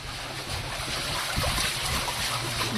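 Outboard boat motors run steadily on blue water along the Croatian coast near Piran, a continuous low droning hum mixed with wind and water wash, close and even throughout with no talking.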